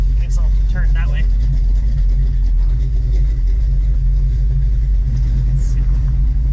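A Chevrolet Nova on newly installed adjustable shocks set to their base tune cruises along with a steady low engine rumble and road noise, a continuous drone filling the cabin.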